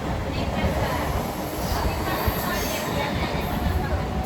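A local train rumbles along near CST in Mumbai, a dense, steady roar of wheels and carriage noise heard from close by, with a voice speaking over it.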